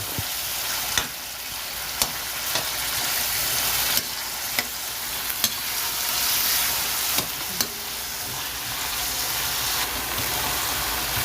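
Tomatoes sauté in a pan for an ampalaya dish, a steady close sizzle and crackle of frying throughout, broken by occasional sharp taps of a spatula against the pan, with no voices.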